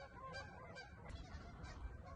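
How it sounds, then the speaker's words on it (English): Geese honk repeatedly in the distance, a scattered chorus of calls over low wind rumble, fairly faint. "Oh, these geese are gonna be so loud."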